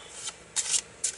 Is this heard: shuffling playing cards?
yes